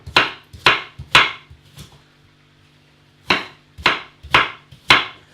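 A large, not very sharp kitchen knife chops on a board while preparing lasagne: three sharp chops, a softer fourth, a pause, then four more loud chops, close up and with no talk.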